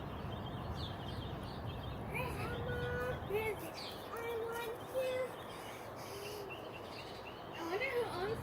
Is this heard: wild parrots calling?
yes